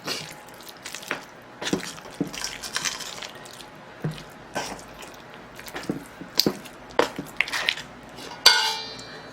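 Seasoning for fermented peppers being mixed by hand in a bowl, with irregular wet squishes, soft slaps and occasional clinks against the bowl, close and intermittent with no talking.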